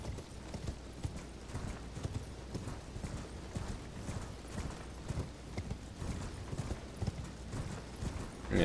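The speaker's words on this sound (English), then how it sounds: "we're gonna gallop west over the bridge" A horse gallops in the Elden Ring video game, a fast continuous clip-clop of hooves at a steady rhythm, loud and close with no talk.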